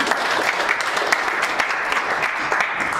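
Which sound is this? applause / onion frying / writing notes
applause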